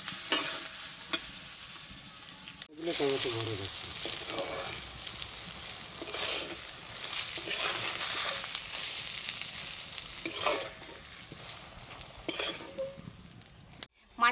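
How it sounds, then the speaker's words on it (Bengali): Brinjal pieces fry in mustard oil with salt and turmeric, giving a close, steady sizzle with scraping stirs throughout. The sizzle cuts out briefly near the start and again at the end, with no talk. "দেবো লবণ আর দেবো হলুদের গুঁড়ো দিয়ে বেগুনটাকে একটু ভেজে নেব"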